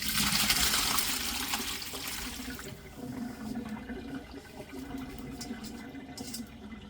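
Water draining off salted, cut watermelon rind pieces, a steady rushing pour that eases into a softer trickle with faint clinks, close and continuous.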